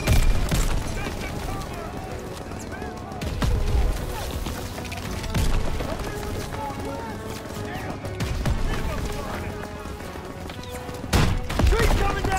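Battle gunfire from the Call of Duty WWII campaign: rolling volleys of rifle and machine-gun shots with heavy booms, mixed with shouting voices and dramatic music throughout.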